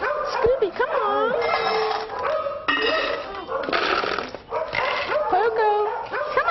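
Several of the household's dogs bark, yip and whimper close by in rapid overlapping bursts, with people talking over them throughout.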